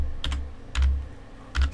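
Keystrokes on a computer keyboard as a password is typed: three short bursts of clicking taps spaced evenly apart, moderately close and clear, with no voices.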